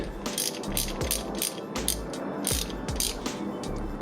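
A ratchet wrench torquing cam bolts during a Feuling cam install on a Harley Dyna, a rapid series of close metallic clicks in repeated short strokes.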